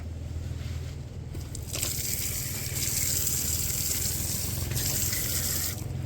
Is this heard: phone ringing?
no